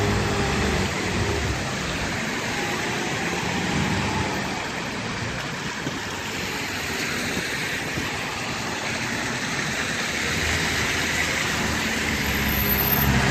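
Cars hiss steadily past on a snowy Istanbul road during heavy snowfall, a continuous broadband wash of nearby traffic with no talk.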